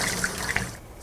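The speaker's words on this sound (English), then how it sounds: "I'm going to rinse this with hot water." Hot water trickles and splashes while home brewing equipment is rinsed, a steady close liquid wash with a few small drips and gurgles.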